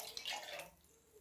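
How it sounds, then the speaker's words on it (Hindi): Water poured from a cup into a cooking pot, a short splashing gush that fades quickly, close and alone. "और अब ये दूसरा कप पानी का।"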